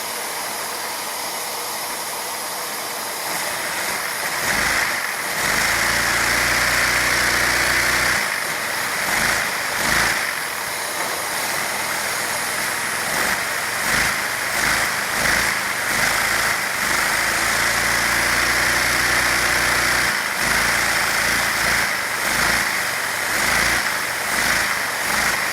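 A LEGO inline two-cylinder vacuum engine, version 1.0, runs steadily and loudly up close, with a continuous rapid mechanical chugging and faint pulsing surges throughout and no voices.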